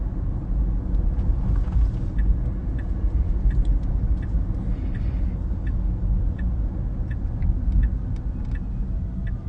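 A Tesla drives through Palo Alto on FSD v12 self-driving software, heard from inside as a steady low road and cabin rumble with faint, regular ticking throughout.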